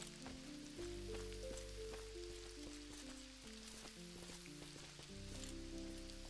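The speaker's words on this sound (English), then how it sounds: "Oh, I like the sound of the rain." Rain in the Mortal Online 2 game world, a dense steady patter of drops under soft layered music tones, continuous and fairly even throughout.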